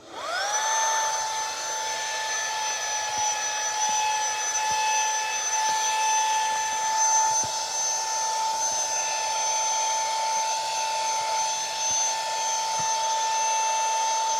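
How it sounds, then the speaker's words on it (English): A small cordless car vacuum motor whirs to life and holds a steady, high-pitched whine with a faint crackle of dirt throughout. "now we're going to try out the vacuum."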